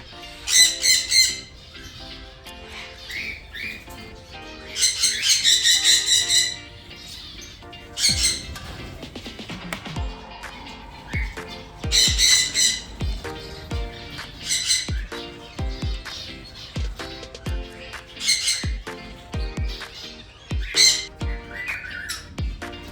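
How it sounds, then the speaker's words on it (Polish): Garden birds squawk loudly in repeated bursts between steady chirping and tweeting during a morning feeding, the harsh calls rising and falling close by with no talk over them. "jesteśmy przy ptaszkach nakarmimy ich"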